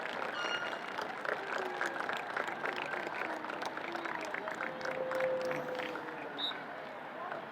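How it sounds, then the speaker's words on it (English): Scattered applause and crowd noise at an outdoor high school boys varsity soccer senior night at Serino Stadium, Saugus Sachems vs Triton Vikings, a steady, somewhat distant clapping murmur with faint voices and whistle-like tones. "And we got a round of applause."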